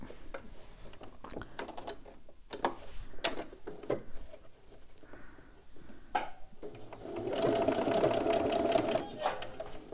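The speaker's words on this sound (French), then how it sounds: "je vais le faire en deux fois, en 2 coutures, ce sera plus simple" Sewing machine stitching a zip seam on a bag, bursts of rapid needle chatter, with a longer run near the end, alongside handling noises and someone speaking at times.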